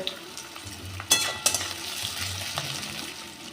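Chopped onions fry with cardamom, cloves, chillies and two bay leaves in a pan, giving a steady close sizzle. Two sharp stirring clatters land early, then the frying hiss carries on alone.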